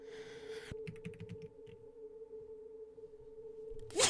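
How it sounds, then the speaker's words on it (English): Computer keyboard keys are struck in short bursts of quick, crisp clicks with brief pauses between them, close and fairly faint over a low steady hum, with no talking. "If my keyboard was working."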